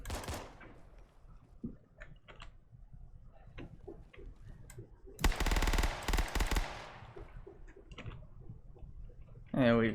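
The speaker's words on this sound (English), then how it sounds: "Pull out the Magnum here." A Magnum fires in the video game Operation Trebuchet, giving a loud burst of gunfire midway. Scattered clicks and soft game sounds come before it, and a final sharp blast cuts in at the end.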